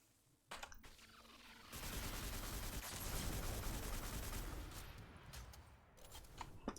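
A weapon fires in Destiny, a brief burst followed by a long sustained stream of rapid automatic gunfire that tapers off, with scattered shots afterward.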